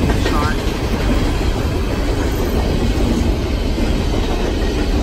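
Norfolk Southern freight train NS 781 rolls northbound through Charles Town with locomotive 8025 in Monongahela livery, a loud, close, continuous roar of wagons and clattering wheels that keeps up throughout.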